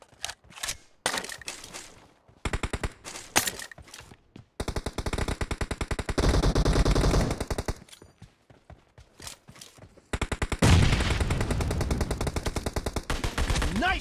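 Automatic gunfire rattles in rapid bursts during a PUBG Mobile team deathmatch, with loud sustained volleys broken by short pauses and scattered single shots.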